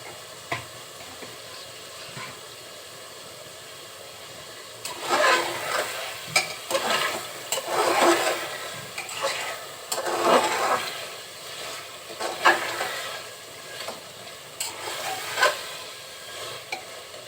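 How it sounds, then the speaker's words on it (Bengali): Beef being stir-fried (kosha) in a pan with oil and spices, a stirring, scraping sizzle coming in repeated bursts after a quiet opening, fairly close and moderately loud, with no talking. "দিয়ে আরো কিছুক্ষণ মাংসটা কষিয়ে নেব।"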